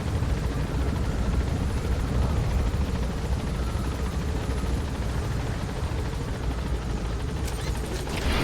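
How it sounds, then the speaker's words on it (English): An enemy attack helicopter in the video game Metal Gear Solid V: The Phantom Pain gives off a loud, steady rotor and engine roar that fills the whole stretch close by, with a few sharp bursts near the end and no talk. "Focus all your fire on that enemy chopper."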